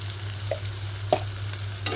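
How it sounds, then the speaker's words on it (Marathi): Homemade wheat-flour noodles are stirred in a frying pan over a soft sizzle and low hum, with a few sharp spatula scrapes spaced about half a second apart. "छान असा याला हलवून घेऊया अजून एकदा"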